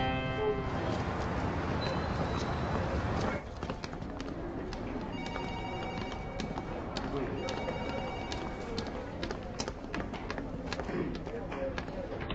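A telephone rings on and off, unanswered, mixed with a dense, noisy background and what sounds like birds or pigeons, while people talk over it.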